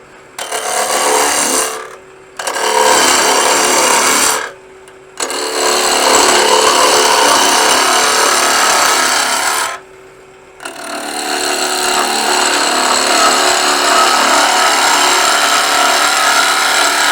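A bowl gouge shapes a wooden bowl blank spinning on a lathe, cutting in loud, steady passes of rough scraping separated by short breaks.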